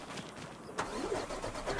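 A truck engine in Farming Simulator 25 cranks and catches, then settles into a steady mid-pitched idle, close and moderately loud with no talk over it.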